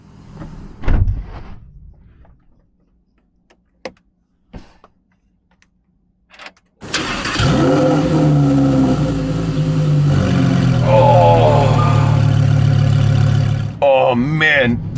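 A Lamborghini STO starts up after a few clicks and clunks, its engine catching with a loud bark and settling into a rough, loud idle, then rising in sharp revs near the end.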